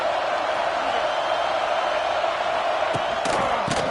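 Stadium crowd at a Florida vs LSU college football game, a dense, steady roar of thousands of fans filling the air throughout, with a few sharper whoops and shouts standing out near the end.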